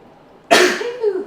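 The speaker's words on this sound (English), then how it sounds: "I gotta sneeze." A single close, loud sneeze bursts out suddenly and trails off into a brief breathy tail, with no talking around it.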